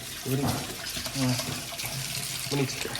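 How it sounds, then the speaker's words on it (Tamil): Hands are washed under a running tap, with water splashing steadily and close by as people talk over it. "இந்த பாருங்க கை கழுவி காட்டுது."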